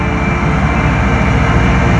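A Cometto heavy transporter for the Jakarta high-speed rail works in Purwakarta moves away from the launcher machine, giving a steady, loud low engine drone that holds without a break.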